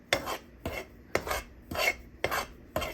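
Cheeni (foxtail millet) rice flour being dry-roasted and stirred in a pan, heard as six evenly spaced rasping scrapes about half a second apart, close and fairly quiet, with no talk.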